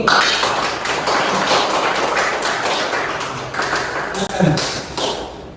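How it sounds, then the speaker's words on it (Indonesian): Students in a university classroom applaud with a dense, close patter of clapping that carries on for several seconds, with voices mixed in underneath. "Beri aplaus dulu."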